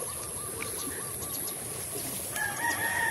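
A rooster crows in the distance in rural Santa Cruz, Laguna, a drawn-out call repeated over steady outdoor background noise, with other fowl faintly audible.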